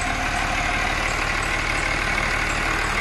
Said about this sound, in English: It just went to idle.